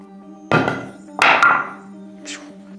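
A ceramic body armor plate in a Cordura cover is dropped onto its edge from 53 inches, giving two loud, hollow thunks about a second apart, with a faint short tap afterward.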